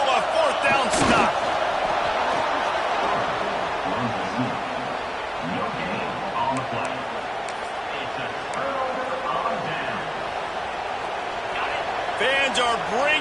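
Dense, loud roar of a stadium crowd at a Tennessee versus Washington American football game near the goal line, sustained throughout, with an announcer's voice talking over it.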